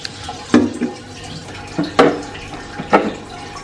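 Water is poured into a grinder jar in a home kitchen in three short splashing bursts, each with a sharp onset and a quick fade, close by with no talking.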